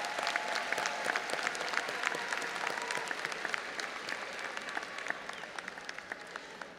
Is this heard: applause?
yes